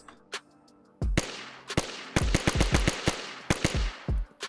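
Unsuppressed Sporter rifle shots in DayZ, a quick single crack followed by a rapid string of loud, sharp reports in uneven bursts, each with a short decaying tail.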